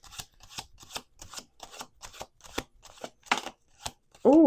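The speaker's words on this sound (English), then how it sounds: "We got 1 more shuffle here." Tarot cards being shuffled by hand in a rapid series of soft, crisp riffles and slaps, about a dozen evenly spaced, quiet and close, with a brief louder tonal sound at the very end.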